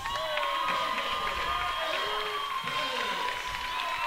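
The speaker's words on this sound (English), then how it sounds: "Big crowd here tonight, Levante" A large crowd at a high school wrestling championship in a gym roars and cheers continuously at a distance, with an announcer talking over the noise.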